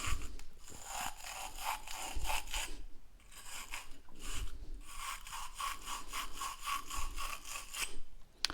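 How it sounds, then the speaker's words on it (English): A Blue Monster wire brush scrubs the inside of a pipe to deburr it before fitting a SharkBite connector, giving a run of quick rhythmic rasping strokes with brief pauses, close and fairly quiet. "So with this Blue Monster by Power Deuce, you're just going to pretty much deburr the inside."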